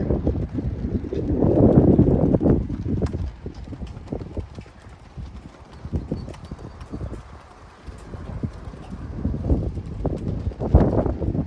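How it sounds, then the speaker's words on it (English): Strong wind buffets the microphone outside a visitor center in New Brunswick, loud low rumbling gusts that swell, ease off midway, then surge again near the end. "It's very, very windy here at the Visitor Center."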